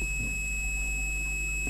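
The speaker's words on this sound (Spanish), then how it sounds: "realizamos la prueba de diodos o la prueba de pitido" A HYELEC MAS830 digital multimeter on its continuity setting gives a single steady high-pitched beep, held for the whole moment, close and clear over a quiet background.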